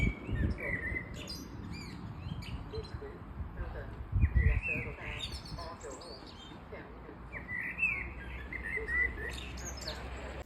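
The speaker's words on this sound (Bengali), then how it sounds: "কেমন লাগলো পাখির আওয়াজ।" Small birds chirping and singing outdoors on a quiet walk in Sweden among cherry blossoms, scattered bright calls at moderate distance over low ambient rumble and faint handling noise.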